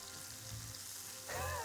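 Steak sizzles in a pan with a steady hiss as it is pushed around, briefly louder near the end with a faint tonal squeak.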